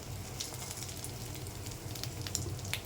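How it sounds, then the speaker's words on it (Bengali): Pumpkin flower fritters sizzle steadily in hot oil, a soft continuous frying crackle with occasional brief pops, close and moderately quiet, with no talking. "এই যে বড়ার আকার করে ভাজা দিয়ে দিছি"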